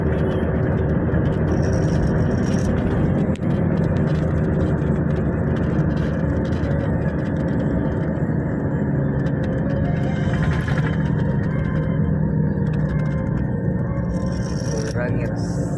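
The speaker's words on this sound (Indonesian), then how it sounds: "Ada suara mesin." A continuous low bus engine hum and whir runs throughout as the bus climbs a steep hill route in Morowali, with faint voices and shifting rumble over it.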